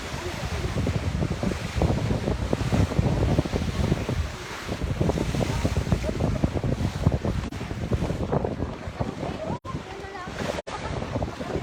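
Strong waves on Taal Lake in the Philippines slosh and crash close by while gusty wind buffets the microphone in loud, rumbling bursts throughout.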